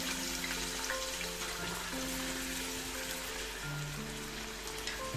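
Steady crackling sizzle of sliced onion frying in about five spoonfuls of hot oil, a dense hiss with faint pops and a low background hum.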